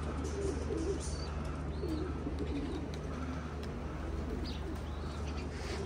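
Pigeons in a loft coo softly and repeatedly at close range over a steady low hum, with occasional faint chirps and no talking.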